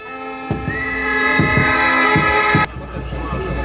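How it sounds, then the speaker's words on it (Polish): Horns blare at a farmers' protest in Warsaw, a loud sustained harmonic honking with rhythmic thumping underneath for about two seconds before cutting off abruptly, leaving crowd noise behind. "Trąbimy!"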